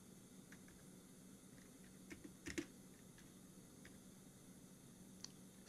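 Typing on a computer keyboard while entering a file path for Retropie media, faint soft key taps scattered irregularly over a quiet hiss, with a small cluster of firmer clicks midway.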